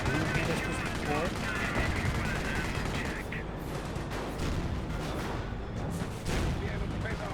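Dense battle noise from the video game Company of Heroes, with Panther tanks and continuous overlapping gunfire, booms and machine-gun bursts, and a voice talking over it throughout.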